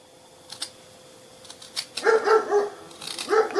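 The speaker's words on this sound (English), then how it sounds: "That crazy dog loves the camera." A dog at a workshop where a building is being taken down barks in a quick burst of several sharp barks from close by, after a few faint clicks and knocks, with no talk over it.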